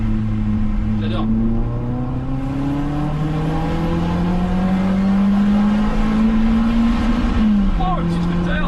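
A Renault Clio 16S driving through town, its engine humming steadily with a gradual rise and fall in pitch as it revs, heard from inside the car while people talk over it.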